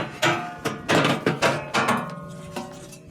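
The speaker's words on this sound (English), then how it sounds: "Grab your bottom plate, simply lift up, slide back and forth and set it aside." A metal bottom plate from a Maytag stove is lifted, slid back and forth and set aside, giving a quick run of loud, close clanks and scrapes that fade into a final soft thud.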